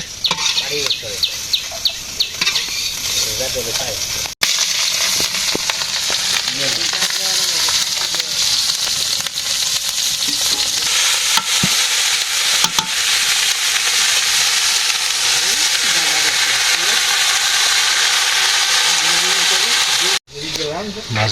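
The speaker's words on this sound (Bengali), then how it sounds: "মাছ ভাজি হয়ে গেছে" Fish frying in oil in a village kitchen, a loud, close, continuous sizzle with stirring scrapes, while people talk over it.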